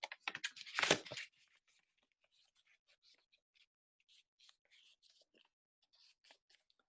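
A paper pentagon cut-out is folded, opening with a short loud crinkle and rustle, then only faint scattered paper crackles and soft handling sounds that fade into near silence.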